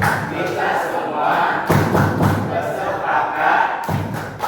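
Rhythmic clapping from a classroom group doing a class chant together, steady claps under chanting voices, with a couple of louder thumping beats.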